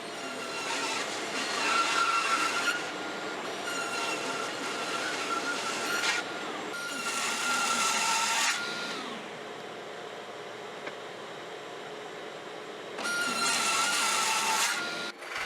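Table saw blade cutting a wooden Morris chair leg on a sled, loud bursts of whining cut noise alternating with the steady hum of the running saw, repeated three times.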